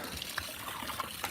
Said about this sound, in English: The water's flowing over